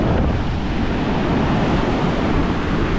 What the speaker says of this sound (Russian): Смотрите, смотрите, какие волны!